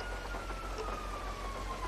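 Rain falls in the GTA 5 Redux video game as a steady hiss, with a faint siren wail drifting through in the background.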